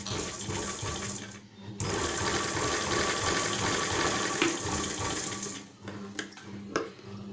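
A sewing machine runs steadily for about four seconds as it stitches plain fabric piping around a cut opening in a blouse sleeve, with a brief pause before and some faint handling noises afterward.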